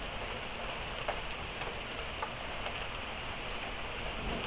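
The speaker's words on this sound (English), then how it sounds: "Hail is still falling." Steady rain with hail falling during a severe thunderstorm in Aurora, Colorado, a dense continuous hiss with faint scattered impact ticks throughout, fairly distant and without talk.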